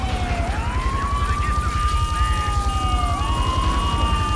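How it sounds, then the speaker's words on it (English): A helicopter in Grand Theft Auto III thrums with a steady rapid rotor pulse, loud and continuous, while a wailing police siren rises and falls over it. "I think I hear a helicopter"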